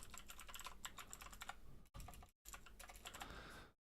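Steady rapid typing on a computer keyboard during React web app coding, with dense clicking keystrokes, two brief pauses, then the typing resumes and stops.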